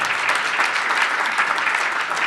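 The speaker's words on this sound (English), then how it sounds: "So a round of applause for all of you." Sustained audience applause from a crowd at a talk by a motivational speaker, dense steady clapping filling the whole stretch without a break.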